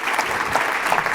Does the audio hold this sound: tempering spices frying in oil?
no